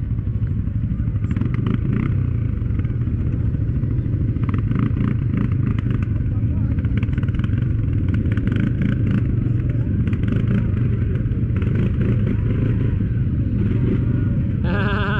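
A CFMOTO CForce 450 4x4 ATV engine runs steadily and loudly up close for the whole stretch, a continuous low drone with clattering, while people talk over it.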